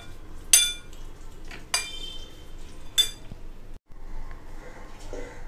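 Raw green mango being mixed in a bowl with a spoon, three sharp clinks of metal against the bowl spaced about a second apart, then softer scraping and stirring sounds, close and clear.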